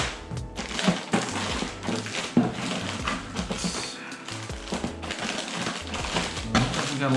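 Paper packing being handled while a box of fishing tackle and baits is unpacked, with close crinkling, rustling and crunching bursts and soft bumps, and someone speaking now and then in the background.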